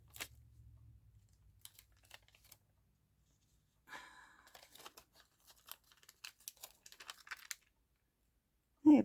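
Cutting off the overhanging edge of slightly damp washi paper, heard as soft intermittent snips and crinkly rustles close by, in a quiet room, ending with a short louder bump.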